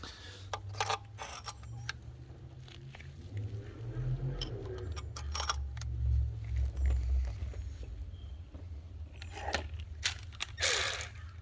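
A hand ratchet clicks in short, quiet bursts while working the oil filter housing bolts on a 2014 Jeep Grand Cherokee 3.6L V6, the close metallic clicking spread across the clip over a low background hum.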